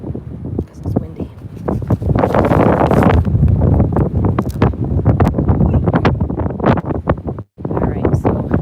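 Gusty wind outdoors at Sheldon State Park in Houston, buffeting the microphone loudly and roaring almost without pause, with a brief lull near the end and a person talking over it.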